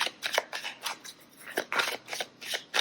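Lenormand cards shuffled by hand for a reading, giving a run of quick, crisp close-up riffling and snapping bursts in an uneven rhythm, with no talk over them.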